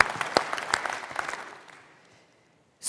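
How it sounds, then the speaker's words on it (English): Audience applause at a LoRaWAN World Expo 2022 keynote, a burst of clapping that fades away over about two seconds and leaves near silence. "I want everyone to take a moment and give yourself a round of applause."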